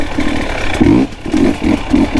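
KTM 300XC two-stroke dirt bike engine running smoothly, with a rhythmic burbling pulse and a quick blip of revs in the middle, close and fairly loud with no talking.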